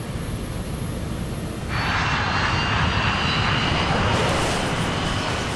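A KLM jet airliner roars down a runway at speed, a loud sustained engine rumble that swells and brightens midway as it bears closer.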